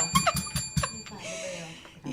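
A hand bell rings several times in quick sharp strokes, then gives way to a softer sustained shimmer, with a voice and room noise around it.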